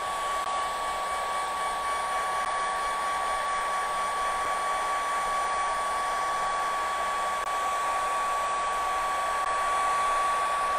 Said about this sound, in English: If you have a hair dryer,